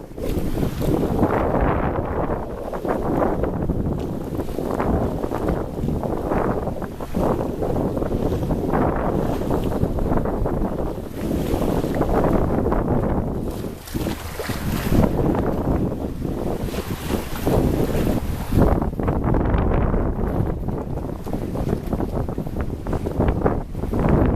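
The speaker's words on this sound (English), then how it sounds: "we see white water roll back from our bow as it slices through the swells" Steady wind rushes past with water churning and splashing as a boat's bow slices through swells crossing a sound, a continuous loud roar with no voices.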